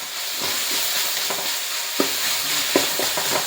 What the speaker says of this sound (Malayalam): ഇനി നമുക്ക് ഇതിലോട്ട് ഇഞ്ചി വെളുത്തുള്ളി പേസ്റ്റ് ഇട്ട് കൊടുക്കാം ഈ ഉരുത്തിൽ പേസ്റ്റ് വെച്ചിട്ട് ഒന്ന് ഇളക്കി ഇളക്കി കൊടുക്കാം